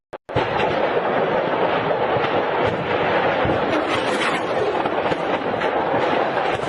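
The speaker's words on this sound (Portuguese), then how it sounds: "presta atenção para você ver a quantidade de explosão secundária" Secondary explosions at an ammunition depot in Melitopol, a continuous dense roar of blasts and rumbling booms with crackling bursts, loud and sustained throughout after a brief opening thud.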